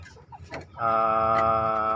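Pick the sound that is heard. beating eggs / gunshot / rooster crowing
rooster crowing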